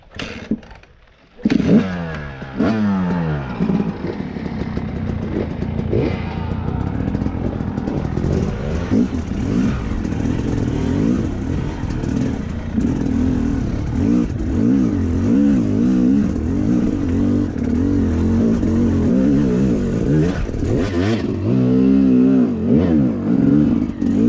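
Yamaha YZ dirt bike kick-started and revved, a loud, close engine running steadily with rising and falling revs for over twenty seconds after a short quiet start.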